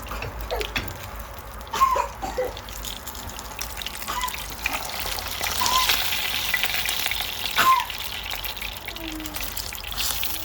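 Fish sizzles in a pan of oil, a steady crackling fry with a few brief clinks and small bumps, close and fairly quiet, with no one speaking.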